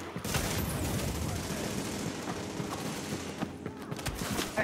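Dense video game gunfire rattles in rapid overlapping bursts, loud and continuous throughout, with no talk over it.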